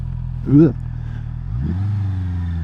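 A Honda CB650R motorcycle engine hums low, then rises in pitch as the bike accelerates, heard from the rider's position with a brief vocal-like sound early on and a steady rumble throughout.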